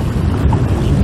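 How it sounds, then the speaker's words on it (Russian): Loud, blustery cold desert wind in Uzbekistan buffeting the microphone in a continuous low roar, with no voices. "Ветер, холодный пустынный ветер"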